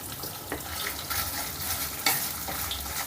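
Chopped large onion pieces hitting hot oil for a cauliflower and chana dal kurma, giving a steady close sizzle and frying hiss with light stirring scrapes, no voices.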